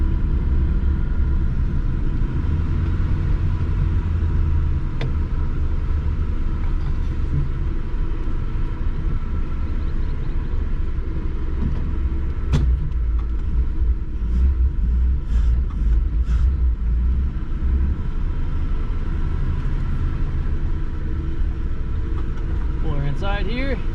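A 1953 Plymouth Cranbrook, revived after decades sitting abandoned and with only front brakes working, rumbles steadily as it is driven, a continuous low engine drone with a voice talking over it.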